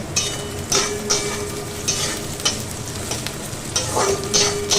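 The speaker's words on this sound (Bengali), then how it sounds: "এবার আমি এর মধ্যে দিয়ে দেব আদা আর রসুন কুচি, দিয়ে এটাকেও ভালো করে ভেজে নেব।" Chopped ginger and garlic frying with onion in a hot pan for a cabbage bharta, a loud continuous sizzle broken by repeated spatula scrapes and stirs at an uneven pace, close up.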